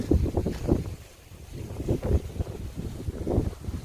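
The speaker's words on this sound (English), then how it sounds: "It seems to calm down a little bit now, the wind." Gusty wind buffets the microphone beside a choppy lake at a carp fishing swim in the UK, with uneven surges of low rumbling noise rising and easing over a few seconds and no voices.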